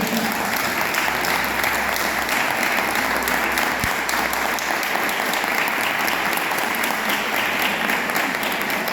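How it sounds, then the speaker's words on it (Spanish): Loud, dense applause fills the room at a librarians' gathering, a steady unbroken roar of many hands clapping close by for the whole stretch, with no talking on top. "Un aplauso, por favor."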